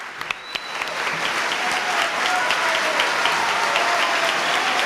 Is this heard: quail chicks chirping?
no